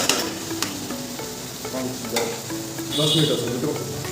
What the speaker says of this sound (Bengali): আমি না আলু ভাজি করছি